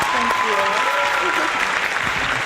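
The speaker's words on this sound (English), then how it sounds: "a huge, huge round of applause for Miss Chris." A crowd gives a steady, loud round of applause at a live show, with a voice talking over the clapping throughout.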